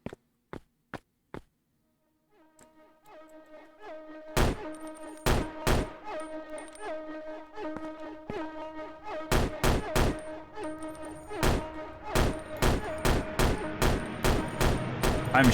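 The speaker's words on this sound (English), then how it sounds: "I'm shooting, by the way. That's me." Gunfire from the player's weapon in the game Mask of Lake Haven: a few sharp isolated shots, then a rising droning tone, then a series of loud, crisp shots in quick irregular bursts, close and punchy.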